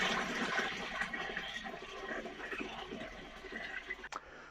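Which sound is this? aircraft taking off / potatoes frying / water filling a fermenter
water filling a fermenter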